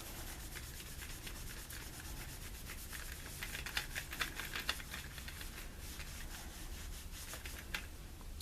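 A doll's surface is rubbed clean with peroxide wipes, giving a steady, close scratchy scrubbing that runs continuously with a few sharper scuffs midway, and no voices.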